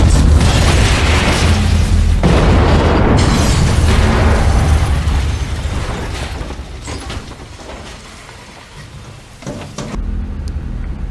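A loud grenade explosion with a deep rumbling roar and debris noise that slowly fades, followed by a second low burst near the end.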